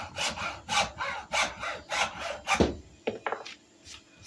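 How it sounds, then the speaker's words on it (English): A hacksaw cuts through a wooden hammer handle in steady, rhythmic back-and-forth rasping strokes, close and loud, then slows to a few short final strokes as the cut finishes. "why are you cutting your handle with a hacksaw?"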